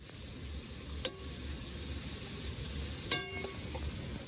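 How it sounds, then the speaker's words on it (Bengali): Crab cooking in a beachside restaurant kitchen at Mandarmani gives off a faint, steady frying sizzle, with two light metallic clinks of utensils standing out briefly. "কাঁকড়া ওইদিকে রান্না হচ্ছে"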